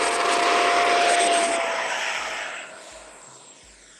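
Eflite F/A-18D radio-controlled jet with a ducted fan taking off, a loud steady high whine that fades as it climbs away over about four seconds.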